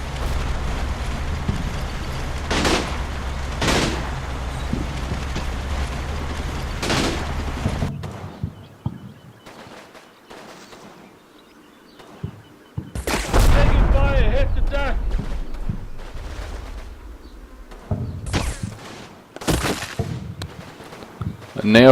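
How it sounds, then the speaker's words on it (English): Machine guns fire in a military strategy video game, heard as loud sharp bursts and booming reports that recur through the scene, with quieter gaps and a voice speaking between them. "The machine guns get themselves set up and start to fire with the Stummel."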